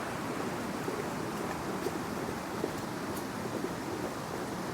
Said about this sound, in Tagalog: Kaso grabe ang lakas ng hangin.